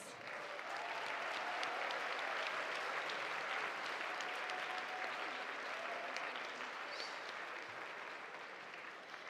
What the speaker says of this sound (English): Let's give another round of applause to all of our winners.